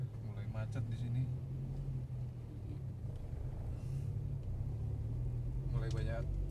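Steady low engine rumble of slow, congested street traffic in Balikpapan, with idling and creeping vehicles close by, a constant drone throughout and a brief voice near the start and end.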